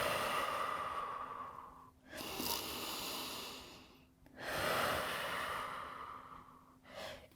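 Slow, deep breaths taken during a yoga strength flow: long, steady airy inhales and exhales close to the microphone, three drawn-out cycles with short pauses between, no talking.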